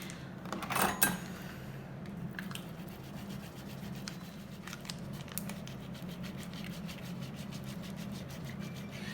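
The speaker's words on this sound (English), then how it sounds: "So we're gonna grate this." Unsalted butter being grated by hand for lemon blueberry scones, a faint, steady scratchy rasping that repeats in short strokes against a quiet kitchen background.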